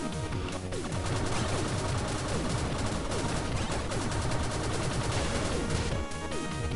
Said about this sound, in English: Oh, hey, a machine gun.